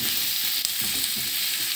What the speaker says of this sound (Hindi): अभी हम डालेंगे इसमें चिकन, और कलर तब्दील होने तक हम इसको पकाएंगे।